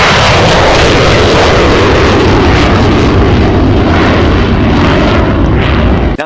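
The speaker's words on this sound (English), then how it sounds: "this noise primarily comes from the Oceana Naval Air Station" Military jet aircraft roaring near Oceana Naval Air Station in Virginia Beach, a loud, steady, broadband rumble filling the whole stretch without pause, with no voices.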